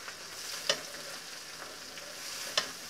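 Small leafy greens fry in hot oil with a faint, even sizzle, while two sharp scrapes of a stirring utensil stand out, and no one talks.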